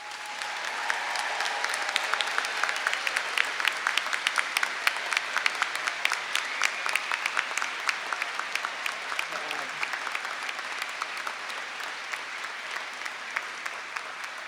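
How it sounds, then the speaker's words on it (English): A graduation audience at a nursing school commencement applauds its graduates, a steady wash of dense clapping that carries on without a break, with a few sharper claps standing out near the front. "Please join me in a round of applause for these graduates and their achievements."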